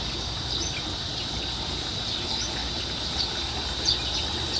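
Water from a repaired backyard garden waterfall trickles and splashes steadily in a quiet residential neighborhood, joined by a faint, continuous high chirring of insects and the occasional small splash.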